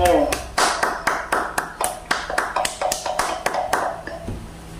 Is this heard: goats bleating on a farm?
no